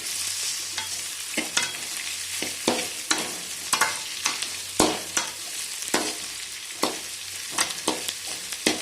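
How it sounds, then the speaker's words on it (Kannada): Onions frying in a pan for a Kannada-style sambar give a steady, close sizzle, with regular scrapes and knocks of a spoon stirring through them; no voices. "ಒಂದೆರಡು ನಿಮಿಷ ಅಷ್ಟೇ ಇದನ್ನು ಫ್ರೈ ಮಾಡ್ಕೊಳ್ತೀನಿ"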